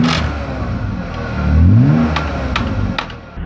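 A BMW E36 M3 with a newly installed exhaust revs close by: a loud, steady engine note climbs in a quick rising sweep and then settles back, with no talking.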